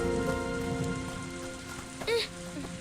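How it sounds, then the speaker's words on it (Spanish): Rain falling in an animated kung fu story, a soft steady patter over a quiet tonal background, with a brief sharper sound cutting in near the end. "¡Está lloviendo!"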